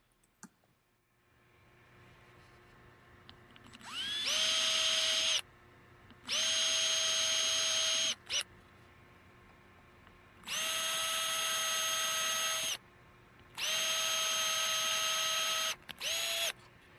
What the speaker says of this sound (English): you need to pre-drill so that your screw won't split that faceplate